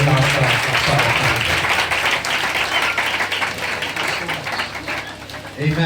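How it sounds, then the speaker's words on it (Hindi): Congregation applause at a Hindi church service, steady enthusiastic clapping throughout with voices mixed in, easing slightly near the end. "आइए जोरदार तालियों के साथ हम प्रभु के नाम का स्वागत करें।"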